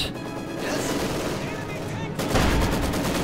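A Maxim machine gun fires in the Company of Heroes 2 battle, giving a dense, loud roar of gunfire and explosions that swells louder near the end, with commentary voiced over the din.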